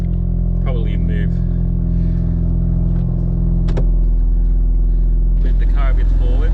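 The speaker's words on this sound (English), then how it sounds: "probably just start the car up" A Ford Mustang engine idles steadily with a low rumble, rising slightly partway through, while a person talks over it.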